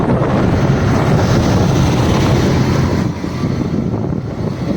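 Strong wind roars steadily into the microphone beside a collapsed national highway, a dense broadband rush that eases slightly toward the end, with no voices.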